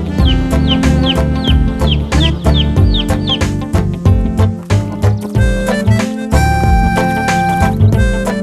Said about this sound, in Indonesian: Ada ayam-ayam. Ada anak ayam di sana.